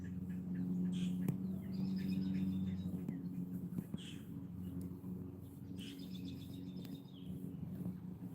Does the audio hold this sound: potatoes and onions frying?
no